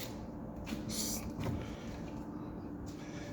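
Metal drawer slides handled in a van during a bed build, giving a short sliding rattle and a couple of light clunks over a steady low background hum.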